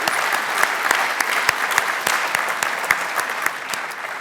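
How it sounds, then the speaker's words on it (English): An audience at a campus ceremony claps steadily, a dense patter of individual hand claps close by with no cheering, sustained for several seconds. "Yes, round of applause."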